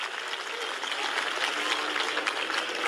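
A tennis crowd at Petra Martić's match breaks into sustained, dense applause after a drop shot winner, a steady wash of clapping heard at a distance.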